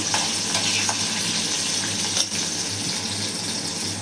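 Green chillies frying in hot oil with cumin and mustard seeds, a steady close sizzle that continues evenly with a faint stir midway.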